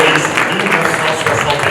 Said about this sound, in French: Je vais vous demander d'applaudir Madame Marie-Anne Ning Sing Kwon, 1971, Miss Maurice